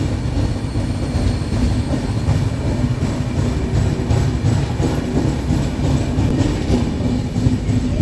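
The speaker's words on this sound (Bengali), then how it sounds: "ট্রেন এখন তিরিপুর ছেড়ে দিয়েছে তিরিপুর স্টেশনটা পেছনে রেখে এসেছি আমরা" A Coimbatore–Chennai Central Vande Bharat express rolls steadily along the rails after leaving Tiruppur, with a constant loud rumble and rhythmic clickety-clack from the wheels, heard from on board.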